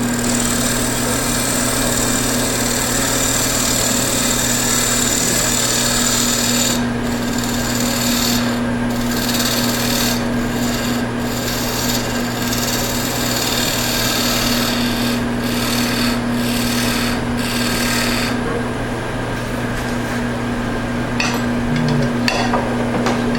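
A woodturning tool cutting a wooden hollow form on a lathe gives a steady, continuous rasping scrape with a constant motor hum beneath it. The scrape carries on without pause for the whole stretch, close and loud, with no voices.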